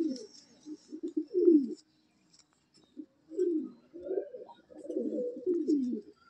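Kaldama pigeons at a pigeon loft give soft, low cooing phrases in separate bursts with quiet gaps between them, growing longer and more rolling toward the end.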